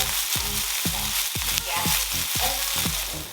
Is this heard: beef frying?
yes